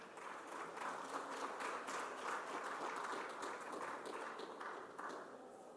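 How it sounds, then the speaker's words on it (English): Audience at a policy forum on women, jobs and markets applauding the presenters and panelists. The clapping is soft and distant, a steady patter across the room that stays even for several seconds. "Please, a round of applause for them."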